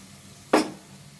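Vermicelli drops into a pan of hot oil with fried nuts and plump raisins, giving one sudden loud sizzling burst that fades quickly against a quiet kitchen background.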